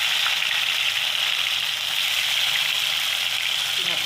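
Brinjals frying in hot oil in a wok give a steady, dense sizzle that hisses evenly for the whole stretch, close and unbroken, for a curd brinjal dish.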